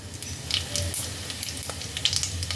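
Whole cumin seeds hit hot oil and ghee with a continuous crackling sizzle, spitting and popping at close range with no voices.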